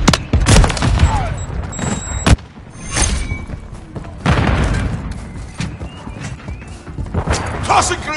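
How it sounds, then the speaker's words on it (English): Intense Call of Duty Modern Warfare 3 combat with repeated heavy thuds and bursts of gunfire, among which a stun grenade goes off as a loud, sharp blast. Voices call out over the din. "Stun grenade out. Stun grenade."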